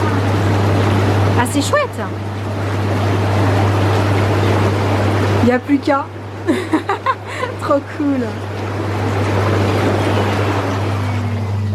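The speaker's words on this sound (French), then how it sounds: "C'est un jacuzzi. Hein. Avec un moteur pour faire les bulles." A jacuzzi's bubble motor gives a steady low hum and a broad rushing bubbling. It runs throughout, with people talking and laughing over it partway through.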